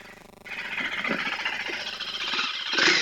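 A 2025 KTM 390 Enduro R single-cylinder motorcycle engine starts and settles into a fairly quiet idle, its steady exhaust murmur close by with a slight rise near the end.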